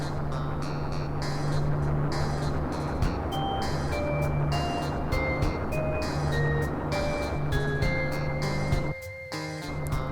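A bus ride in the Final Fantasy 8 video game plays as a steady vehicle rumble under a looping melodic tune with high chiming tones, moderately loud and continuous, with a brief drop near the end.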